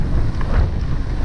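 Headwind noise rushing over the microphone while riding a full-suspension mountain bike, an Oggi Cattura Sport 2021, on a gentle incline: a steady, loud low-frequency roar with continuous buffeting and no speech.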